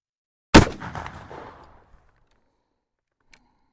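An 1884 Springfield Trapdoor rifle fires a single sharp, loud shot at close range while its loads are tested, followed by a rolling echo that fades over about a second, then quiet with a faint tap.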